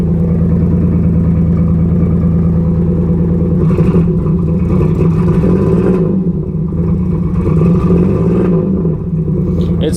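The engine of a 1991 Pontiac Firebird with a hesitation fault runs loud and close in a steady rumble, with slight dips and surges in its note as it stumbles, and no voices.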